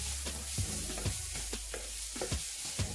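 Vegetable fried rice with chicken and corn frying and being turned in a pan: a steady sizzle with repeated scraping strokes of a spatula about every half second, close and without talk.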